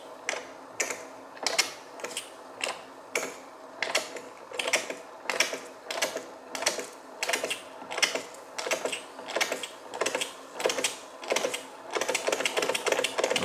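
A Jensen Model 25 toy steam engine ticks over in rapid, evenly spaced clicks, a light, close mechanical beat that holds steady and quickens slightly toward the end.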